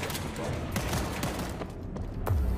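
Scattered bursts of gunfire in the World War Z video game, a loud crackling fusillade of overlapping shots amid hectic game sounds.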